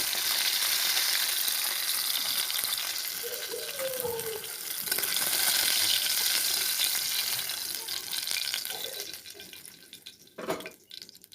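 Bhetki fish frying in hot oil, a loud continuous crackling sizzle that gradually thins and becomes patchier toward the end, with a few clatters near the close.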